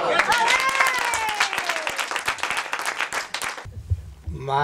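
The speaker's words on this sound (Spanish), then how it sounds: "¡Un aplauso!" An audience claps during a village visit in Vidal, a lively burst of applause that fills the space for several seconds before it suddenly stops and a few voices are faintly heard.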